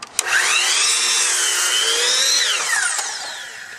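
A miter saw cuts through wood up close, a loud sustained whine that rises as the blade spins up, holds steady through the cut, then winds down over the last second.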